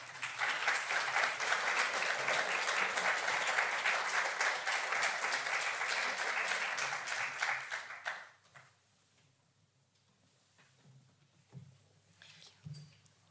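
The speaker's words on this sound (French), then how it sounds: "Et nous pouvons l'applaudir en effet." Audience applause at a colloquium in the European Parliament, with steady clapping for about eight seconds that then stops, leaving quiet room sounds and soft murmurs.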